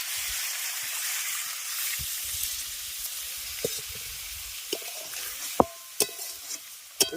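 Jackfruit and potato pieces cooking in a spiced pan sizzle steadily as water goes in, with a bright, hissing fry that continues throughout and a few sharp clinks of a utensil near the end.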